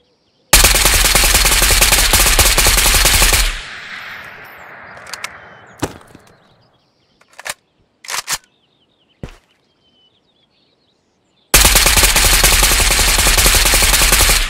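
AK Alpha rifle without a grip fired in the video game Ghost of Tabor: two long, loud bursts of rapid automatic fire, separated by a quieter gap of echo and a few isolated shots.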